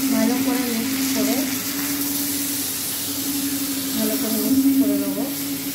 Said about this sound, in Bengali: আমি ভালো করে মশলা দিয়ে এগুলোকে ভালো করে মিক্স করে